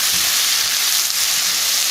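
Onions cook in a pan alongside seared chicken, giving a loud, continuous sizzling hiss that stays steady and close throughout, with no voices.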